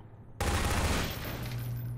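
Half-Life 2 gunfire erupts suddenly after a short quiet moment into a loud, sustained burst of rapid shots that rings on steadily to the end, with no speech.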